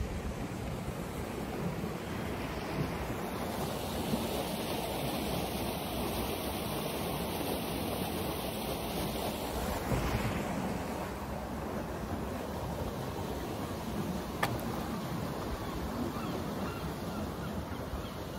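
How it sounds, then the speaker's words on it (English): Steady rushing water flows continuously beneath a bridge near the Arbroath cliffs in Scotland, a broad, even wash of sound with faint wind and a distant honk or two. "Probably hear the water underneath me."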